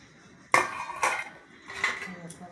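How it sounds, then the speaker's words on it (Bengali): Dishes of food being covered, with a few distinct clinks and clatters of lids and utensils against plates, spaced apart and moderately close, with faint background noise between them. "তাহলে এগুলো আবার একটু ঢেকে দিই, নাহলে এখনই আবার কিছু পড়ে যাবে।"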